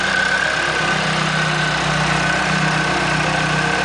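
A supercharged Opel Astra GSI engine with a flow-bench ported head and full stainless exhaust from manifold to tailpipe runs steadily and loudly at close range, a constant mechanical drone with no clear rev spikes.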